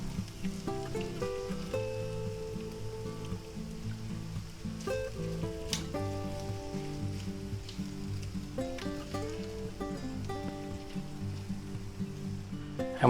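Eggs frying in a pan with ham, onions and green peppers, a soft steady sizzle under background music, with occasional faint stirring scrapes.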